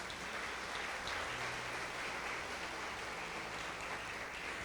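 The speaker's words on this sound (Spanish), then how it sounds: "Dele el aplauso al Señor esta mañana." A church congregation claps during a Spanish-language sermon, a faint but steady wash of applause from the crowd continuing for a few seconds.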